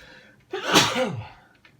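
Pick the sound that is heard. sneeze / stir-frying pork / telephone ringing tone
sneeze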